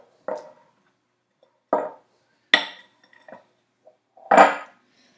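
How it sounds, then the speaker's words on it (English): A metal ladle knocks and clinks against a dish four or five times while scooping a peanut butter and jelly mixture onto bread, each knock short and crisp with silence between. "take this ladle and see if I can just get a good scoop of my peanut butter and jelly mixture, get it onto the bread"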